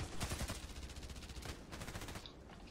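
Bursts of Saiga 12k shotgun fire from the video game Contract Wars, a quick string of sharp blasts early, then a few more spaced shots, fairly faint and without speech.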